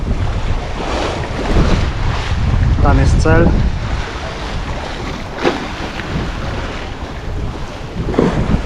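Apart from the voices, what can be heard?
wind and waves while sailing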